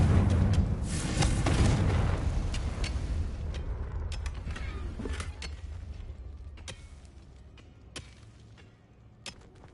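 A Confringo spell blast goes off in Hogwarts Legacy, a heavy booming explosion with low rumble that fades over several seconds, followed by scattered debris-like cracks and clatters.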